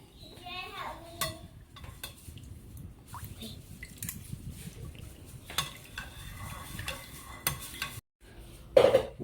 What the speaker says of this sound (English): And we will mix it thoroughly.